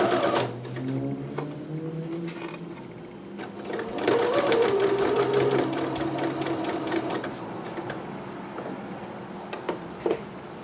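A sewing machine stitches a dress seam on a McCalls 6701 pattern, its rapid mechanical needle clatter running in bursts that speed up and slow down, close and fairly quiet, with no voices.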